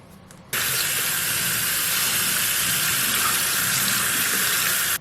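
Tap water gushes loudly and steadily into a sink while a sponge is washed beneath it, starting suddenly after a brief quiet moment and cutting off at the very end.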